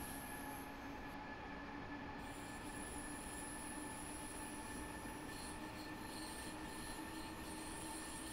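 An S-Bahn train runs from Munich toward Garmisch-Partenkirchen, with steady wheel rumble and sustained high wheel squeal throughout and no voices.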